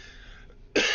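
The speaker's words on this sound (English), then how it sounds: "I'm sorry for my cough." A single sharp human cough bursts out near the end, loud and close, following a stretch of quiet background hum.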